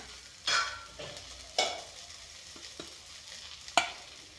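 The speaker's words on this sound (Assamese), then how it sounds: "পিঁয়াজখিনি অলপমান ভাজি ইয়াতে মাছখিনি দি দিম।" Pieces of fish are fried with onions in a pan for an Assamese fish and ash gourd dish. Quiet sizzling runs underneath while a spatula scrapes and stirs in several sharp, separate strokes.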